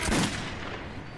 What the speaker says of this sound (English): I shoot each cannon, like, separately?